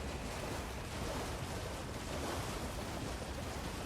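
A waterfall in the video game Elden Ring gives off a constant, dense rushing roar, steady and unbroken throughout with no other sounds standing out.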